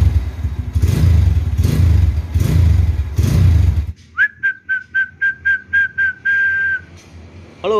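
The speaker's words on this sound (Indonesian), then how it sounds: "Lihat nih galak banget." An original 2007 Honda Tiger motorcycle engine, warming up, revs hard in several loud bursts, then gives a rapid series of short blips with a whistling tone, close to the bike and with no talk.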